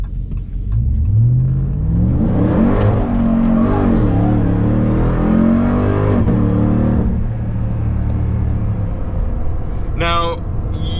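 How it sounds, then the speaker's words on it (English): A 2021 Ram TRX pickup in sport mode revs its exhaust, rising and falling engine roar heard from inside the cab with the rear window cracked open, steady and loud, with people talking over it. "so you can hear all that melodious exhaust"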